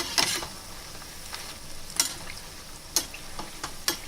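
Rice flour snacks frying in hot oil: a steady, close sizzle with scattered sharp pops and ticks every second or so.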